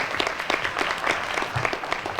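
A crowd applauds Annapolis High School at a 2019-20 National Board Certified Teachers pinning ceremony, brisk, dense clapping from an indoor audience sustained throughout.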